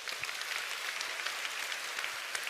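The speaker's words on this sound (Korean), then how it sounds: "우리 박수 한번 쳐줄까요?" Audience applause during a skincare class presentation, a dense, even wash of clapping from a roomful of people that holds steady throughout.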